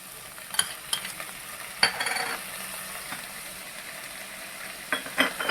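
Yogurt goes into paneer frying in a pan, giving a soft sizzle under a few sharp spoon clinks and scrapes against the pan, with no talking.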